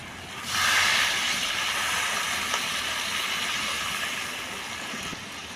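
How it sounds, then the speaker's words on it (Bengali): Water poured into a hot pan of fried spice paste with potatoes, a sudden loud hiss and sizzle that swells at once, then settles into a steady bubbling steam that slowly fades. "এবার আমি পরিমাণ মতো জল দেবো।"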